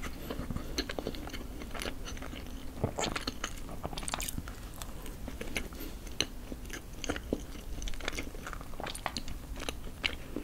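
Soft sweet potato cream bread is eaten close up, giving dense wet mouth sounds and irregular soft bites and chewing with small crackles and no speech.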